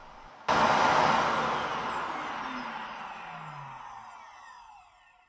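An Ecovacs Deebot T9+ base station motor abruptly starts with a loud whooshing suction roar as it empties the robot vacuum's dustbin, holds for a few seconds, then gradually winds down and fades.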